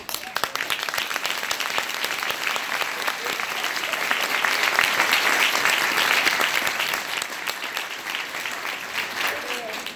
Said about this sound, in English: I didn't ask for pity clap.